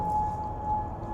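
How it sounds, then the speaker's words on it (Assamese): Over a low background rumble, a civil defense air raid siren in Kuwait, sounded as a warning of rocket or drone attack, holds one flat, unbroken tone that is fairly faint and distant for about a second. "এইটো চাইৰেন হয়, মানে হেৰি ৰকেট আহিলে বা ড্ৰোন আহিলে এইটো মানে চাইৰেনটো"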